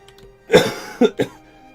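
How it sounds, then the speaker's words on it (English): A person coughs, a few short sharp coughs in quick succession at close range, with no speech around them. "Been coughing a lot lately, though."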